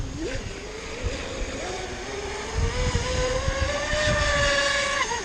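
RC model boat 'Spear of Destiny' on its maiden run, a heavy hull with its motor whining steadily and rising in pitch as it picks up speed over splashing water, heard close from shore.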